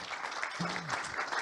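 An audience claps for the speakers of a round-table discussion on ETCS railway signalling: a brief, steady spatter of applause in a hall, with a faint tone sliding through it.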